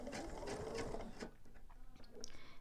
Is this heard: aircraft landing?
no